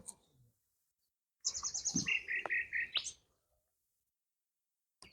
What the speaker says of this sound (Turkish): Gök gürültüsü, yağmur sesi ve kuş sesleri bir arada.